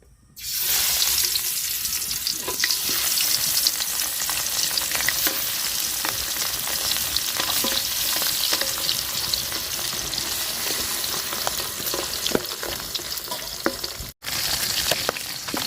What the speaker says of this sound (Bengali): আমার পাতিলের তেল গরম হয়ে গেছে এখন মাছ দিয়ে দিব